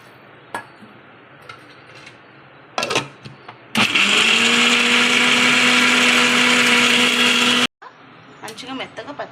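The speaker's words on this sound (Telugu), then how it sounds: "ఇప్పుడు ఇలా ఫస్ట్ ఒకసారి బాగా మిక్సీ పట్టుకోండి" A kitchen mixer grinder blends peanut and roasted gram chutney for idli, starting abruptly and running loud and steady for about four seconds before cutting off, with light kitchen clatter before and after.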